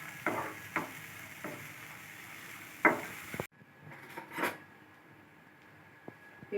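Moong dal fries and crackles softly in a pan for a drumstick leaf fry, with scattered stirring clicks and scrapes, a steady low sizzle, and one louder clatter near the middle.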